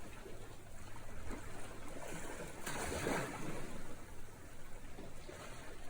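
Gentle ocean waves wash onto a beach, a soft steady surf hiss with one fuller wave swelling and breaking midway, fairly quiet and with no talking.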